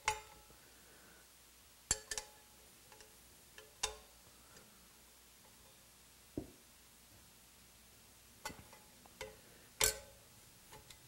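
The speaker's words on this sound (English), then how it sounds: "Next, we just keep going in our star pattern and tightening down with some good force." Nuts and bolts on a motorcycle sprocket tightened in a star pattern, producing sparse sharp metallic ticks and clicks from the tool at irregular intervals over a quiet background.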